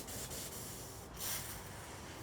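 A wet/dry vacuum extractor head sprays a fine mist, giving a faint, steady broadband hiss that swells briefly near the middle.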